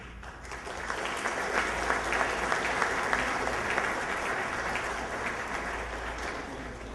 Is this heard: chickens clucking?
no